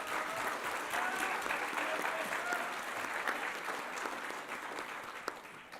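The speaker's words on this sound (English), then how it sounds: "So let's give them another round of applause." Steady, sustained applause from an audience at an awards ceremony, honoring a singing trio, loud and even throughout with no speech over it.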